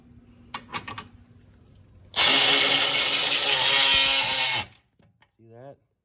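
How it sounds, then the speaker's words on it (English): Electric ratchet removing a difficult bolt on an Audi B8 through a wobble extension, one loud continuous whirring burst of about two and a half seconds, preceded by clicks and followed by a brief voice. "I'm stalling because I'm trying to find my electric ratchet. I wouldn't want to have to do this by hand."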